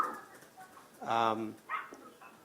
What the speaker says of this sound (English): I hear some background noise. You're a dog. I hear a dog.